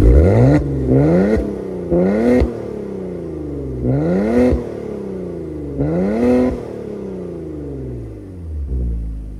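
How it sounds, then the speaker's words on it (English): A 2024 Maserati Ghibli Modena Ultima Q4 engine revs repeatedly, its exhaust note rising and falling in several loud, throaty bursts with short pauses between them. "one thing you cannot dispute is that a beautiful exhaust note"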